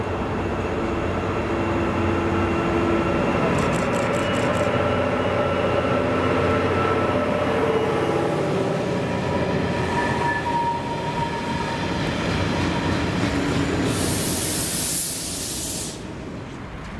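Freight train 6M50 Torness to Carlisle Kingmoor nuclear flask service led by Class 88 locomotive 88010, a long steady rumble of wagons rolling past with hissing brakes near the end, fairly loud and close, no talking.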